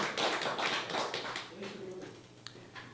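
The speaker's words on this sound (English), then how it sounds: "Yeah, hey, that's worthy of applause." Scattered clapping from a small audience at an evening reader's theatre performance, a burst of claps that thins out and fades within a few seconds.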